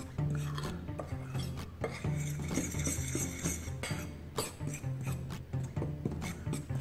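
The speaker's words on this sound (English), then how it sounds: "Just mix all that together." Salt and charcoal powder are mixed in a bowl for sourdough bread, making close, busy scraping and rubbing with repeated clinks of a utensil against the bowl. No voices.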